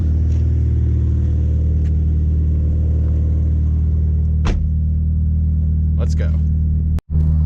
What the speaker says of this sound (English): So let's take it on a test drive and see how it does.